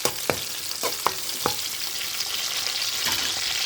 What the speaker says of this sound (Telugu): పచ్చిమిరపకాయను ఉల్లిపాయలు ఇవ్వండి గోల్డెన్ బ్రౌన్ కలర్ వచ్చేదాకా వేయించుకుందాం